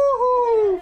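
A dog howls in one sustained, wavering call lasting under a second, loud and close, with no talking over it.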